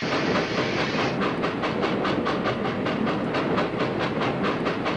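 A rhythmic clickety-clack of a train rolling on rails, a loud steady stream of repeated wheel beats with no talk, played as a sound effect in a children's educational train game about colours and farm animals.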